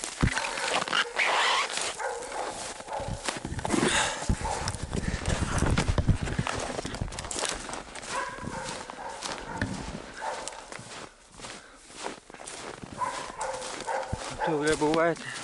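Hunting dogs bark during a sable hunt in a snowy Yakutian forest, the barks mixed with crunching footsteps and people talking nearby.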